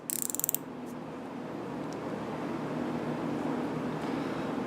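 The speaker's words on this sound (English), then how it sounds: "I'm going to tighten the mic down using the ratchet" A quick burst of fine, rapid ratchet clicks as a micrometer is tightened, close and crisp at the very start, followed by a low, steady room hum.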